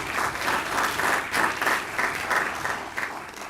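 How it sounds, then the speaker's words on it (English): A crowd at a university public forum in an arena breaks into warm applause, many hands clapping steadily and fairly close for a few seconds, with no talking over it. "let's hear an applause"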